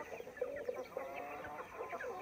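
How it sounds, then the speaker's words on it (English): Chickens clucking in a short run of quick, overlapping calls, moderately close, with no voices over them. "These are chickens"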